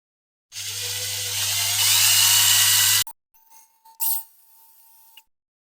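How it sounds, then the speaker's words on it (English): A small power drill whines steadily for a few seconds as it bores into the post of a Corgi 701 diecast mini bus, then stops abruptly, followed by a brief second burst and faint handling noises. "we'll drill the front post first"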